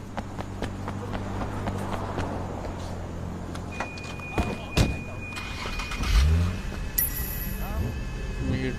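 A car drives through the streets in the Sleeping Dogs video game, its engine a steady hum under scattered thumps, clicks and short tonal game effects.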